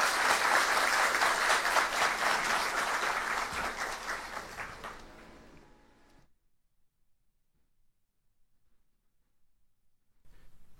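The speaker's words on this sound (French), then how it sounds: "que je vous demande d'applaudir très fort" A crowd at a prize ceremony honouring a winner breaks into loud, sustained clapping that fades gradually to silence, followed by a voice starting up at the end.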